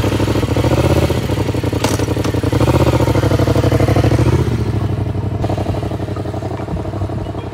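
Motorcycle engine running steadily at low speed during slow full-lock turn practice, a continuous throbbing drone with slight rises and falls in revs and occasional clatter.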